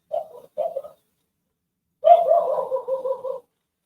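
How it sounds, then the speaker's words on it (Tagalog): A dog gives two short barks, then after a pause a longer run of rapid yapping barks, fairly close with silence between. "Sunsya na kayo kung may narinig ng aso."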